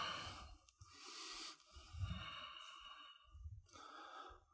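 Slow, deep yoga breaths during a vinyasa flow, with close, airy inhales and exhales separated by short pauses, some ending in soft sighing or snort-like nasal bursts.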